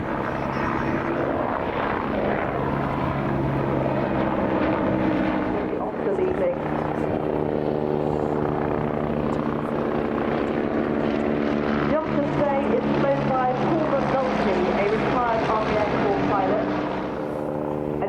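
A Scout helicopter roars steadily and loudly overhead at low altitude during an air display, its rotor and engine drone shifting in pitch as it passes close, with faint talk partly buried beneath.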